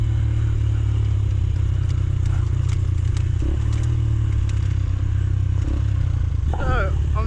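A 125cc dirt bike engine drones steadily and loudly while riding through the Welsh mountain countryside, with wind rumble throughout and a brief rise in pitch near the end.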